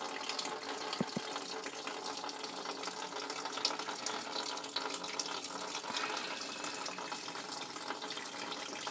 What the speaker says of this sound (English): we'll start the old sparger going